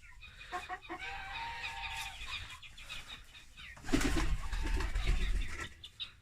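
Soft cooing and clucking from a young pigeon close by, with a rustling burst partway through and a few laying hens calling nearby.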